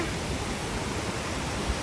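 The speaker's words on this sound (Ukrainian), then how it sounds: "приїхати на такий водоспад. Каската Авізіо." Steady, dense roar of falling water from the Cascata dell'Avisio waterfall in the Dolomites, constant and broadband with no pauses.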